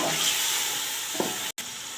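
Cauliflower and potato curry sizzles steadily in a pan as it is stirred after a splash of water, a soft hiss with a brief scrape of the spoon and a short dropout near the end.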